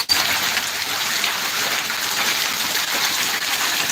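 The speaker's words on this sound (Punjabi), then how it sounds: "ਗੜੇ ਡਿੱਗ ਰਹੇ ਬਾਈ" Heavy rain mixed with hail falls on open farmland, a constant loud wash of pattering drops that holds steady from start to finish.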